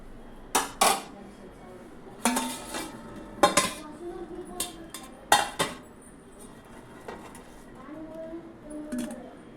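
Fried bread balls go into a pot of sugar syrup amid a series of sharp metallic clinks and knocks from a spoon against the pot, spaced irregularly over a quiet background.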